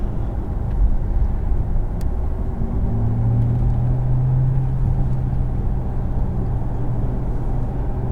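A 2020 Porsche Taycan Turbo electric car gives off a low, steady synthetic drive hum and road rumble from the cabin, with a brief rising tonal whine in the middle and no talk.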